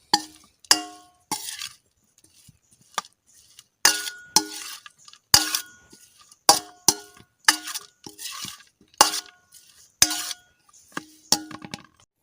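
Potato bonda masala mixed in a bowl produces a series of bright metallic clinks and clangs, irregular taps of a spoon against the bowl with brief quiet gaps between, close and clear, with no talking.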